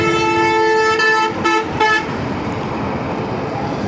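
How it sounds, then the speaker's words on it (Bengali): A vehicle horn on the Sylhet highway sounds loud and close in three short toots over road and engine noise, and the traffic rumble carries on after the horn stops. "আরেকজন তো হর্ন দিতেই আছে।"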